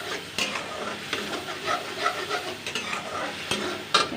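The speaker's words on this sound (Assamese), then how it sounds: "সেইখিনি এনেকৈ অকণমান লৰাই থাকিব, ভাজি ল'ব ধুনীয়াকৈ" Ginger and garlic sizzle in oil while being stirred in a pan for rajma, a steady frying hiss broken by scraping strokes and a few sharper clicks of the utensil.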